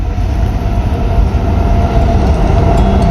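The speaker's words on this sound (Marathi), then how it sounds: "मालगाडी आली आहे" A heavy freight train rumbles past close by, a loud, steady low roar of rolling wagons with a constant rattling drone throughout.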